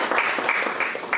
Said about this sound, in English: please give a big round of applause to all the generals and all the serving officers here